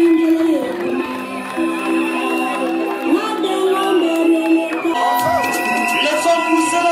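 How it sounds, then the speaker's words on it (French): A wedding crowd at a Gabonese customary marriage cheers and shouts cries of joy, a loud dense wall of voices and whoops holding steady throughout, with a rising shout near the end. "Est-ce qu'on peut pousser les cris de joie?"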